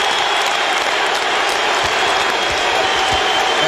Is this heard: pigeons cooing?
no